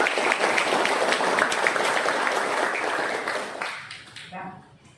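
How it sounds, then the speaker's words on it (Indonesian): Applause from a school graduation ceremony for ninth-grade students, dense and sustained clapping from a crowd that fades out toward the end. "Tepuk tangan untuk kita semua."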